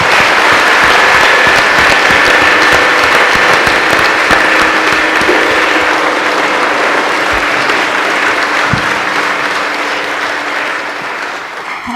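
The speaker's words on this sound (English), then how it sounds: "That applause tells you." Audience applause fills a church at an evening talk, steady dense clapping from a sizeable crowd that carries on throughout and slowly thins toward the end.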